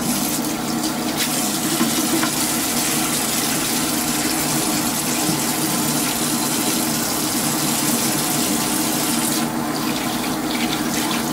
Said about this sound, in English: Thought it'd be cool for you guys to hear the running water.